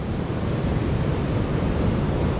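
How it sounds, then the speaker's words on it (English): Huge high-tide surf rolls onto New Smyrna Beach as a constant broadband wash of breaking waves, with wind buffeting the microphone and no voices. "It's high tide right now, so the surf is huge,"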